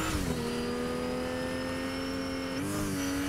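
Car engine revving steadily in a Fortnite match, a sustained loud drone that holds pitch and then dips briefly before climbing again, with no talk over it.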